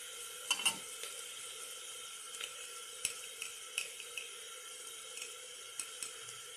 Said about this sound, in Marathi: आता व्यवस्थित हे परतते.